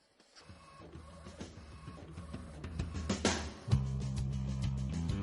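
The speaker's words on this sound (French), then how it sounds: "ce papier transfert va directement dans les imprimantes à jet d'encre" An inkjet printer feeds and prints on transfer paper, with whirring motor runs, clicks and a rising mechanical rattle, ending in a steadier hum as the carriage works, close and fairly quiet.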